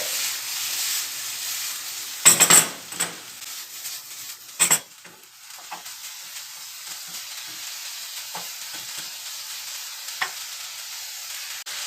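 Onions and peppers sautéing in a pan with a little water, a soft steady sizzle broken by a few sharp scraping stirs of a utensil against the pan.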